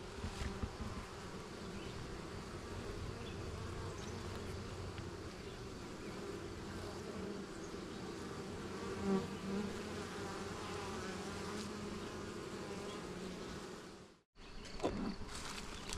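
A honeybee swarm drones in a dense, continuous buzz, fairly faint and steady. Near the end it breaks off abruptly with a brief gap before the buzzing returns.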